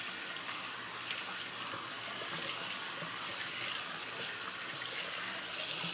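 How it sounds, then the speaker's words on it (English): Tap water runs steadily over a shaving soap puck being rinsed in a sink, a continuous close splashing hiss with no other sounds. "I'm just going to rinse off the puck here."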